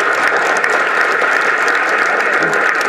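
An audience at a memorial meeting for the Tamil poet Kaviko Abdul Rahman applauds steadily and loudly. The dense, continuous clapping fills the whole stretch without pause.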